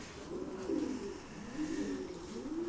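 Racing pigeons coo repeatedly inside a crowded loft, a close, rolling series of low throaty calls rising and falling in steady waves with no voices.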